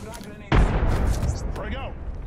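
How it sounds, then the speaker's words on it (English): A frag grenade explodes with a sudden loud boom in the video game Apex Legends, its rumbling blast trailing off under short game voice lines. "Frag grenade sent."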